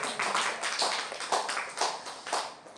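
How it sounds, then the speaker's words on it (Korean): Congregation clapping at a Korean Sunday church service, a rhythmic burst of hand claps in a steady beat, fairly close and clear with no talk over it. "박수 한번 쳐주세요."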